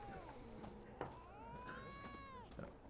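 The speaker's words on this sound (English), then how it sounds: "It's a cat." A black and white cat in The Witcher 3: Wild Hunt gives a few faint, drawn-out meows that rise and fall over quiet in-game background sounds.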